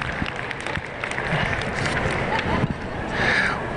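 An audience applauds at a junior market swine champion selection at a stock show, a brief, fairly loud round of mixed clapping and crowd noise in a large arena, with some voices in the background.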